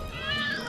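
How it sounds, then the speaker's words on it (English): A domestic cat gives a short, close meow, brief and moderately loud, with faint background voices underneath. "Hope you like cats."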